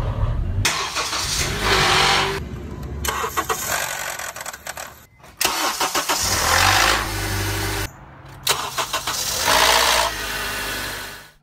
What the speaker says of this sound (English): So when you start the engine, usually on a cold start, usually after the vehicle sat overnight, you may hear this sound.